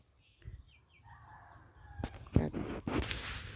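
A rooster crows outdoors beside rice fields and a mango orchard in rural Thailand. A thin, faint call is followed by louder, nearby crowing bursts near the end, with no talk.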